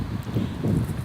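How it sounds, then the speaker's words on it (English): Steady, blustery wind rumbling against the microphone outdoors at a beach, a low continuous roar with faint rustling and no voices. "I'm here at the beach like you can see, and it's kind of windy right now."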